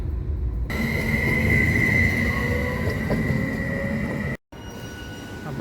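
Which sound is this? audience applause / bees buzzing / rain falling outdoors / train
train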